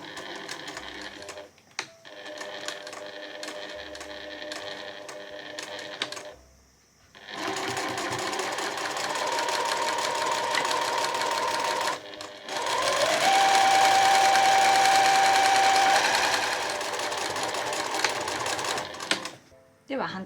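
A sewing machine stitches along the triple-folded edge of a seamless dolman blouse hem, running in steady bursts with brief pauses between passes; a person talks over it.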